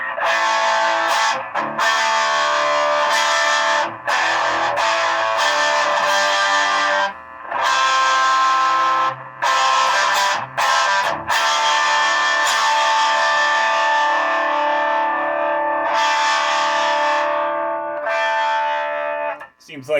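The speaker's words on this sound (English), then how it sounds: "Seems like the tremolo works," A 1976 Music Man 112 Sixty Five guitar amp running on low voltage plays guitar through its tremolo, loud chords and notes pulsing in volume with several short breaks.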